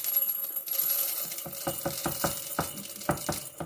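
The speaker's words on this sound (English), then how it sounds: "let's go ahead and grab our canning funnel, and we're going to try our best to not make a mess with our Amish popcorn" Amish popcorn kernels poured through a canning funnel into a glass jar, a dense pattering rattle that starts steady and breaks into a run of quick, close clicking bursts.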